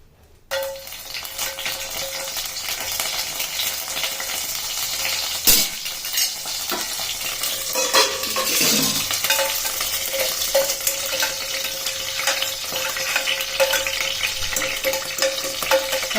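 Bay leaves soaked in water sizzle and fry in a couple of ladles of cooking oil, a steady close crackle with occasional metal scrapes of a spoon stirring the pan.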